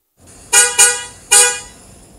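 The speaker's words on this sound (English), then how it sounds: "Until Mona woke up with the sound of the Jeep." A jeep sounds its horn in three sharp honks, two quick ones followed by a third after a short gap, loud and close against a low background, with no talk.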